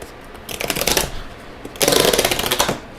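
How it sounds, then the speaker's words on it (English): Cardboard box packaging of an Insta360 One RS camera being torn open along its tear strip, two close bursts of rough ripping and crinkling with a short pause between them. "It says, please tear here. So let's go ahead and do that real quick."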